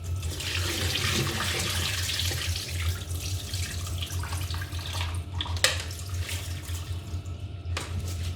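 Rinse water pours steadily out of a rice cooker pot into a sink, a continuous close splashing rush with a couple of light knocks.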